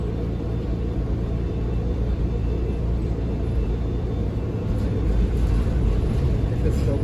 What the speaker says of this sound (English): this streetcar is kind of drifting